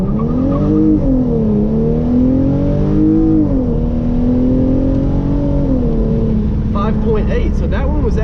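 A Hyundai Genesis Coupe 3.8 launches from a stop in paddle-shift mode. The engine roars loud and close, climbing in pitch, dropping at an upshift, then pulling hard again.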